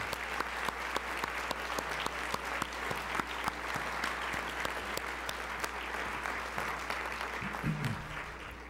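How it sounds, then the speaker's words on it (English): Sustained applause from an audience at a university alumni awards ceremony, a steady wash of many hands clapping close and evenly for the whole stretch with no talk over it. "So one more round of applause for everyone who's been honored tonight."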